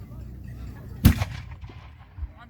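A pirate-style cannon fires a blank charge in a single sharp, loud boom that rings out briefly, then fades back into low outdoor background noise.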